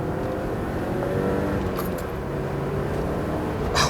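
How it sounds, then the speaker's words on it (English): A turbocharged car pulls hard up through the gears, its engine drone rising in a steady, loud, close roar with layered harmonics and a brief sharp hiss near the end, with no speech. "When the boost kicks in and just running it up through the gears"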